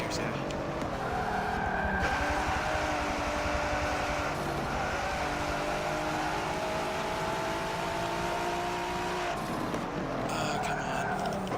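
A Lamborghini engine roars in the Forza Motorsport racing game, rising and dropping in pitch through gear changes across a seven-speed gearbox, loud and continuous, with a brief tyre squeal.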